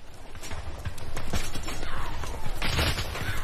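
Volleys of gunfire crackle in quick bursts at burning boats during the Kanpur massacre, amid a busy, rumbling commotion with clattering hooves underneath.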